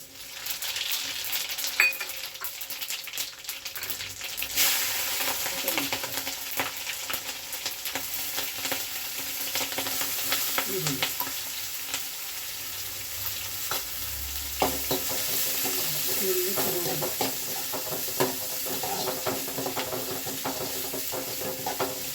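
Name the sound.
cumin seeds sizzling while frying in pan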